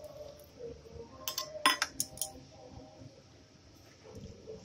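A utensil stirs food in a cooking pan, giving a short cluster of metallic clinks and scrapes in the middle, close but fairly quiet, with soft kitchen background noise around it.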